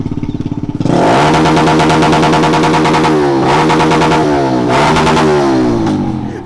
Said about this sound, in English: bounce off the limiter one more time